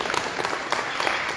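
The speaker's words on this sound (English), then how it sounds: "Let's clap it up for our president." Audience applause for the president at a university speaking event, a dense burst of many hands clapping loudly and steadily.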